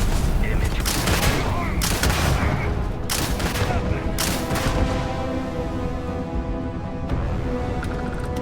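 Gunfire in the video game Starfield, a sustained loud volley of overlapping shots with booming hits in a dense game mix, a voice talking briefly among it.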